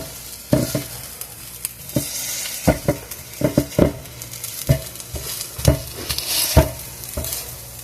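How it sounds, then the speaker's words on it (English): Meat breaking up under a sturdy spatula in a frying pan, the kind that crumbles like chorizo, with a steady sizzle under repeated sharp scraping and tapping strokes, close and fairly loud. "it's pretty easy to break using the stronger spatula"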